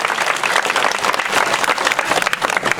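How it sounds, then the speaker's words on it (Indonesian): A crowd at a Balinese Calonarang temple performance claps loudly in a dense, sustained burst of applause, close and continuous with faint voices mixed in. "Tepuk tangan untuk Banyu Male."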